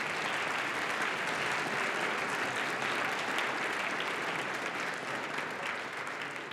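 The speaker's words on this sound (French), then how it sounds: "une bonne main d'applaudissement pour les joueurs" An audience at a youth democrats tournament final claps for the players, a full, sustained round of applause that holds steady and fades slightly at the very end.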